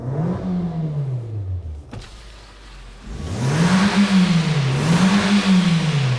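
A 1.8-liter engine in a 2016 Nissan Sentra runs close by, a low steady hum that dips briefly then swells into a slightly louder, undulating drone with no talk.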